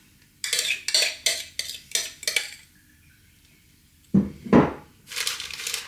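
A spoon scrapes and pushes a grated courgette mixture around inside a slow cooker, making a run of six or so rhythmic scraping strokes, a short pause, and then a few more scrapes close up with no one talking.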